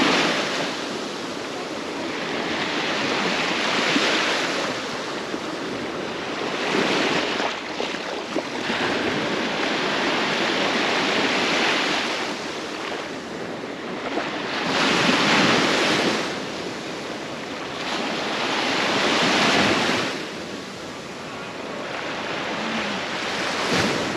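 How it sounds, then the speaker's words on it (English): Ocean waves at Pensacola Beach roll in and wash up in loud repeated surges, with wind buffeting the microphone throughout and no voices. "today I just had to see the beach"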